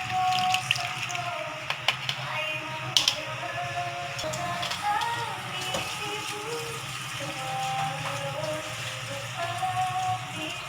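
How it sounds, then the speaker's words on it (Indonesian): Tamarind water is poured into a pot of Batak-style fish arsik as it cooks in a home kitchen, giving a steady soft splashing, trickling sound at close range with no one talking. "masukkan air asam"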